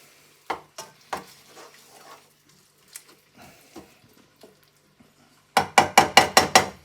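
Onions sizzling and being stirred in a frying pan on a plug-in hob, with scattered clatter, then a quick run of six sharp, loud scraping strokes near the end.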